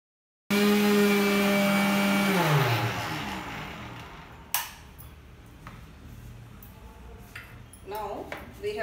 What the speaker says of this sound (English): Once it has cooled well, then we can blend it to a fine powder in the mixer.